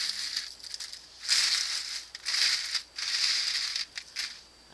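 Crispy dehydrated onion pieces handled on a tray, giving bursts of dry rustling and crunching in short irregular clusters, close up and fairly quiet.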